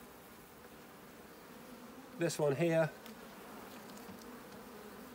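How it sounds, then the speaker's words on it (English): Queenless honeybees in an opened hive give off a constant, droning hum that fills the whole clip. A person speaks briefly over the buzzing partway through. "these bees already know they're queenless. They're starting to roar a bit."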